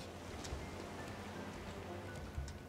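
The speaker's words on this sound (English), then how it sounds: "This rain kind of scary." Rain falls in the survival video game Raft as a soft, steady hiss of drops, faint and continuous, with a few slightly louder patters now and then and no voices.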